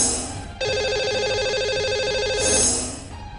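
A telephone ring tone on an outgoing call to a lucky caller on a TV call-in show, one steady electronic trilling burst lasting nearly three seconds, loud and clear with no voices over it.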